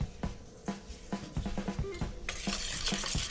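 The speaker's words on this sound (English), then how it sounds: "So we're going to whisk our eggs together." Eggs and sugar whisked in a bowl, a quick run of rhythmic taps and scrapes from the whisk, close and fairly quiet, ending in a denser swishing stretch.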